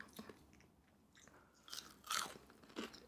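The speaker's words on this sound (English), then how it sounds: "I love the crunchy parts of the chicken." Close, crisp crunching bites of Popeyes fried chicken with brief chewing in between, quiet and intermittent, with no voices.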